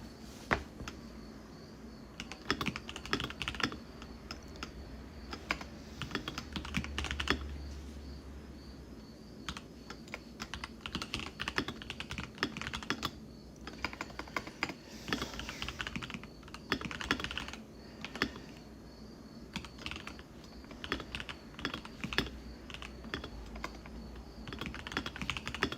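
Typing on a thocky mechanical computer keyboard: continuous irregular clacking of keystrokes in quick bursts and pauses, close and fairly quiet, with no voices.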